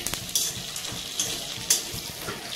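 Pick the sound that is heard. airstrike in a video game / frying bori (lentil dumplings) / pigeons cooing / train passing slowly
frying bori (lentil dumplings)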